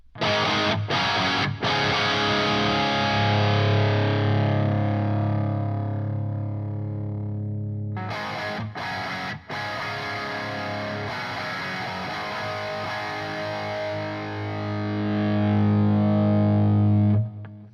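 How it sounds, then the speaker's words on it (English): Distorted electric guitar through an amp picked up by two microphones, one a 421, gradually thinning and hollowing as the mics phase-cancel, with sustained chords and a few choppy stops midway. "you'll hear it start to hollow out as the two mics start to cancel each other out"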